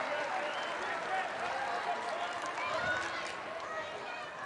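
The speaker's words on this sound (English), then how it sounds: "Mellema gets a big hand from the crowd here in the AA." Crowd applauding a player during a college basketball game between Wyoming and Tulsa, steady dense clapping and cheering filling the arena, with a commentator talking over it.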